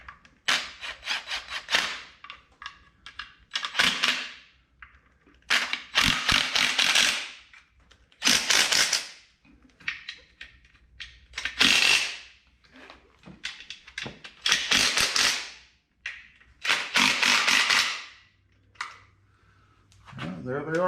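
Bolts joining an LS engine to the transmission of a 1994 Impala SS being snugged down with a ratchet, giving bursts of rapid clicking spread through the span with pauses between them.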